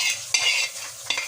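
Duck meat curry with fried potatoes is stirred in a hot pan: two quick, close spatula scrapes cut through a soft, steady sizzle.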